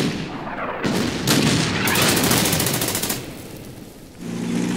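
A tank gun firing in the Order of Battle strategy war game, a StuG assault gun shooting at a Su-76 on a pontoon bridge: loud sustained blasts and rumbling explosions that fade briefly, then swell again.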